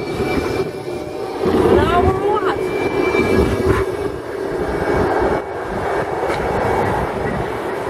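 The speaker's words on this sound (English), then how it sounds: "Here's a tram." A Blackpool tram rolls past on the seafront, a loud rumbling, rattling pass with squealing and whining tones from the wheels and motors, building over several seconds under background noise, with voices around it.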